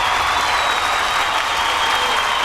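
A crowd claps loudly and steadily at a televised comedy show, a dense, even burst of applause about two and a half seconds long.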